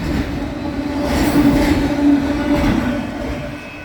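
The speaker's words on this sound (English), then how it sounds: "That was a random train." A train rolls past, a steady loud rumble of wheels and cars with a low droning hum that swells in the middle and eases slightly toward the end, with no talk.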